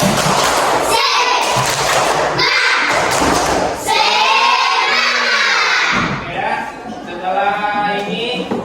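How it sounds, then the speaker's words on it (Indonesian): A class of children in a school lesson performs a loud rhythmic spirit clap chant, with repeated claps and thumps mixed with shouted, cheering young voices sung in unison phrases. "coba tepuk semangat"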